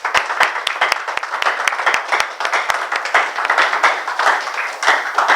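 A seated audience gives a warm round of applause for Mr. Bonifasius at an evening presentation, many hands clapping steadily for several seconds with a few sharp, distinct claps standing out near the front.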